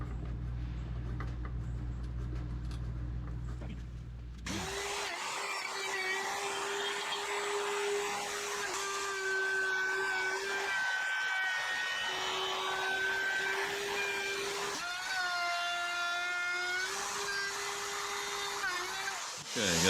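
A Shopsmith lathe spins up and turns a wooden lamp base, giving a steady loud whine with scraping and chattering as the tool cuts, then a brief dip and restart partway through.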